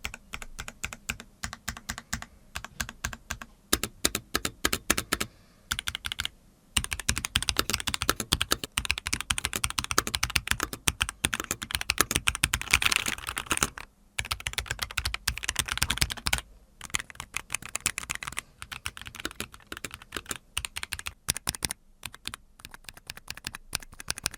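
Rapid clicky typing on an ROG gaming mechanical keyboard, close up, in dense bursts separated by brief pauses, with no talking.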